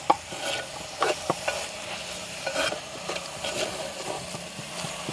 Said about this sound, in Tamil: காளானும் இப்படி நல்லா வதங்கோடும் இதை வந்து கலந்து வதங்கட்டும்